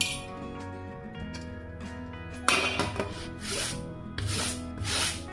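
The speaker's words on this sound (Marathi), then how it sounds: "अशा पद्धतीने कैरी सर्व बाजूने फिरवून अशी किसून घेऊ आपण" Raw mango rubbed against a metal grater gives repeated scraping and rasping strokes, close and fairly quiet, with light clinks over a steady background hum.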